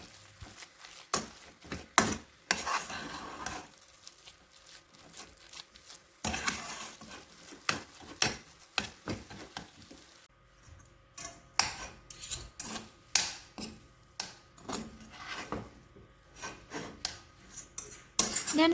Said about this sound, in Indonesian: Di step ini tepung terigunya diaduk cepat ya bun dengan adonan brulee bomnya